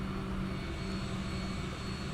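A Eurowings airliner taxis in Microsoft Flight Simulator 2020, a steady droning jet engine hum with faint whine, constant and moderately distant, no talking over it.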